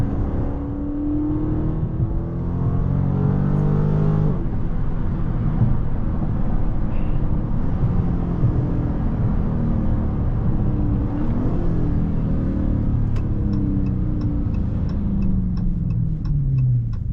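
A Dodge Charger Scat Pack engine, crashed and driven without traction control, drones and revs, pitch rising and falling as it drives, with a steady ticking appearing near the end.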